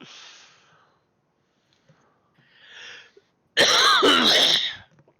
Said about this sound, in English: Coughing in my ear.